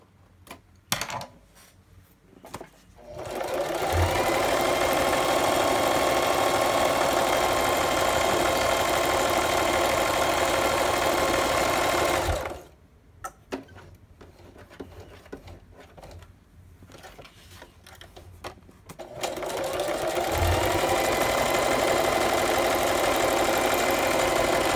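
A sewing machine zigzag-stitches paper in two long, steady whirring stretches, with quiet pauses and small clicks between, close by.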